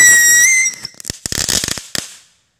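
A firework launched from rocks outdoors, a rising high whistle followed by a burst of crackling pops and sharp bangs, loud and close, then fading to quiet.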